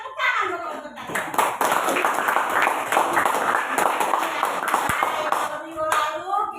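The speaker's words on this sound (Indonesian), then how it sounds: "Tepuk tangan dulu untuk kalian" A classroom of students claps together for several seconds, a dense, steady burst of hand claps close by that fades near the end, with a voice faintly mixed in.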